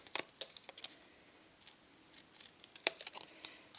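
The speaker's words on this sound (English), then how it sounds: "I'm going to just hand cut around that edge bit" Scissors hand-cut around the edge of a paper card: a quiet, close series of crisp, irregular snips with short pauses between them.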